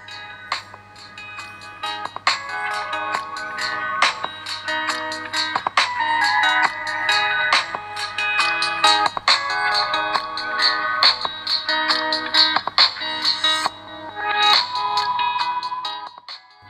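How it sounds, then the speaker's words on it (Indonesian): A Z18 AMOLED smartwatch's small built-in speaker plays music, with a steady tonal melody and ticking, ringtone-like accents that run loud and continuous for about seventeen seconds, with no talking. "Ya ini dia suara speaker dari smartwatch Z18 AMOLED screen."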